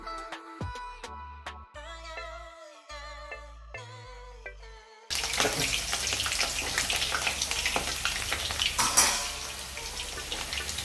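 Washed potatoes, pricked with a fork, are dropped into hot oil for Kolkata-style mutton biryani. A steady crackling sizzle starts about halfway through and carries on, with a short, brighter burst later. Music plays before the frying starts.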